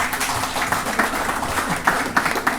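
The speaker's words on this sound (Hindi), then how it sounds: "तालियां आपकी, ज़ोरदार तालियां।" Audience at an Urdu poetry and music celebration in London applauding, a moderate, continuous patter of clapping with faint voices mixed in, heard from a little distance.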